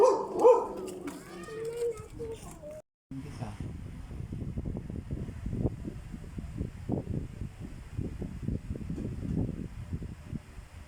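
A dog barks and yips in a steady run of short, fairly close barks, with a person talking briefly at the start before the barking takes over.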